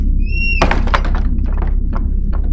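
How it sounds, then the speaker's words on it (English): A cartoon door in an animated story snaps shut with a solid thunk, followed by a few lighter knocking taps, loud and close over a steady music bed, after a rising whistle-like tone. "The doorway snapped shut"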